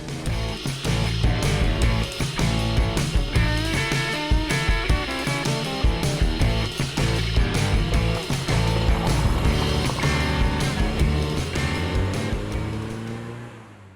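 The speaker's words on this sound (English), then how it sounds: "sharing the beautiful, unadulterated noise of a supercharger on a Classic Mini" Classic Mini with a supercharged engine, revving loudly close by in repeated bursts with rising and falling whine, steady and strong throughout before tailing off at the end.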